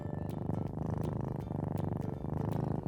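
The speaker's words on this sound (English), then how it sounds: "Yes, cats purr when they're content, curled up on your lap in blissful harmony." A contented cat purrs close up, a steady, soft rhythmic rumble cycling with each breath, quiet and alone with no other sounds.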